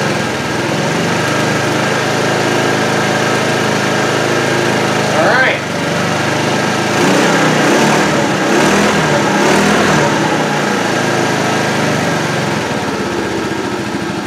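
A 2013 TaoTao Pony 50 scooter engine idles steadily close by, a loud, constant buzzing hum with a slight wobble in pitch midway.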